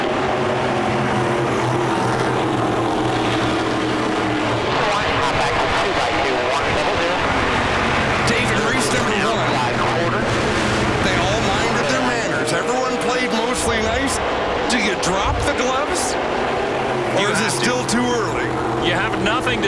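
NASCAR Pinty's Series stock cars racing at Saskatoon during the 2018 Prairie Thunder twin 125s, a pack of engines roaring continuously with rising and falling passes, under constant race commentary.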